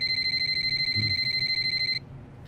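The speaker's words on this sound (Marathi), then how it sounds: "त्याचाच दिसतोय फोन." A phone rings with a rapid, repeating high electronic beep pattern, loud and close. It stops abruptly after about two seconds and leaves quiet room noise.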